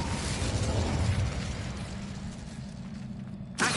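Incendio fire spell bursting in Hogwarts Legacy, a loud rushing blast of flame that roars and slowly fades, followed by a sharp short crack right at the end.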